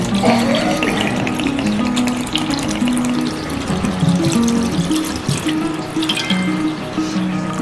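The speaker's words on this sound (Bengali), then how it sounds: "ঠান্ডা জলটা আমি মধ্যে দিয়ে দিচ্ছি" Cold water pours into a roasted green mango juice drink, making a loud, continuous close-up splashing and gurgling stream that lasts throughout.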